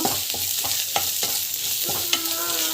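Ingredients sautéing in a pan with asafoetida, a steady hiss of frying broken by a series of spoon scrapes and stirring clatters at an irregular pace, close and moderately loud, with no talking.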